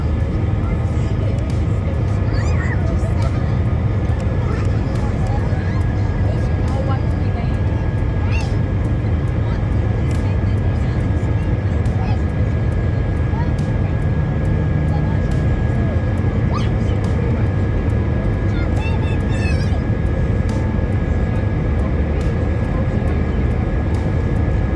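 Steady, loud cabin roar of a Jetstar airliner climbing out over Botany Bay toward cruising altitude, a continuous broadband engine and airflow drone with no break throughout.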